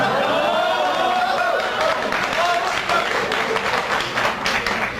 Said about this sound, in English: the Muslims are clapping, the Christians are laughing